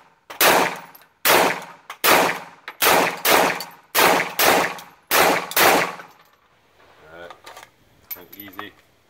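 CZ Bren 2 rifle chambered in 7.62x39 firing a rapid string of about a dozen loud, sharp shots, mostly in quick pairs, over six seconds, followed by a quieter stretch with faint voices and clatter.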